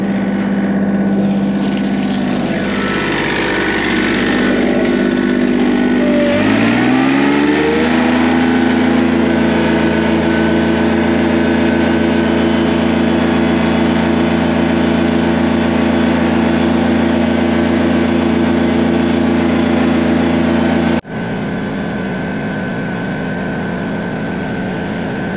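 A tractor engine runs steadily and loud, idling then rising in pitch as it pulls away and drives, holding a constant drone before a sudden shift near the end.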